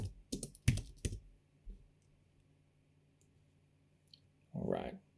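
Close, quiet clatter of keys on a computer keyboard, a quick burst of typing at the start, then near silence and a short soft rustle toward the end.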